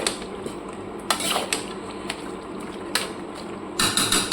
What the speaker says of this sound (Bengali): এবার ঢাকনা দিয়ে একটা ঢেকে দেবো।